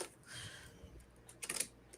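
A tarot deck is shuffled quickly by hand, giving a brief, quiet run of papery flicks and light clicks that ends in a sharper riffle.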